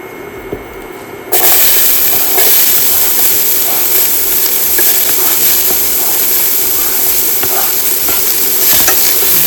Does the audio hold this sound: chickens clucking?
no